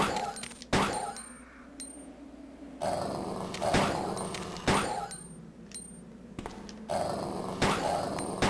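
Zombie dogs in the PS1 version of Resident Evil 2 snarl and growl in repeated bursts alongside sharp thuds and impacts, fairly close and loud.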